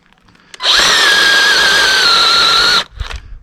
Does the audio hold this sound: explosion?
no